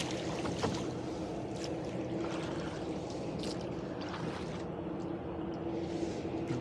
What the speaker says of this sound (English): ferry boat coming back out of here